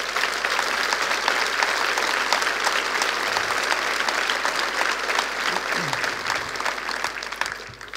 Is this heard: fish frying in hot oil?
no